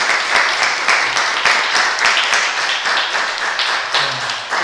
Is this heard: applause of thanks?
yes